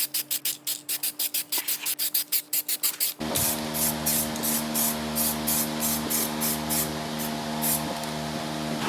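Rust-inhibiting protective primer sprayed from an aerosol can onto bare metal welds in the wheel house of a 1965 VW Beetle: a string of short hissing bursts, then one long steady close-up hiss with a faint hum beneath.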